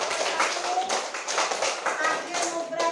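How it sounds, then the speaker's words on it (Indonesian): A classroom of students claps hands for a group, with brisk, uneven clapping close by and a few faint voices mixed in. "Oke, tepuk tangan untuk kelompok 1."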